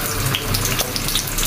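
Onions drop into hot oil in a pan for a beef liver bhuna recipe, giving a close, steady hissing sizzle throughout.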